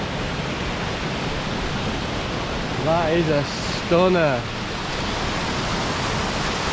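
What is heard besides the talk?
waterfall rushing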